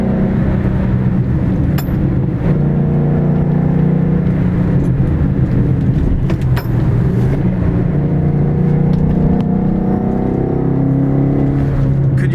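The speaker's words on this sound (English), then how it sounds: "Hear that Whipple supercharger whine?" Shelby GT350 Mustang with a Whipple supercharger being driven, a loud continuous engine drone with a steady whine layered over it, sustained from start to finish with slight rises in pitch.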